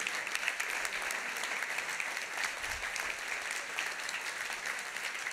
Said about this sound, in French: on les applaudit chaleureusement